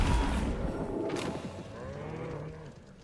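A cow lows in Hogwarts Legacy, a short, moderately loud moo with a falling tone, mixed over game ambience and a soft thump near the start.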